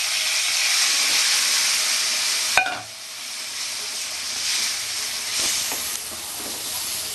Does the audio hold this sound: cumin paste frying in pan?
yes